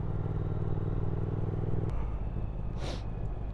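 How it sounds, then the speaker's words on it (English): A Triumph Speed Twin motorcycle engine runs at a steady, throbbing idle or cruise, close and continuous, with a brief rushing whoosh partway through. "I love the sound of this engine."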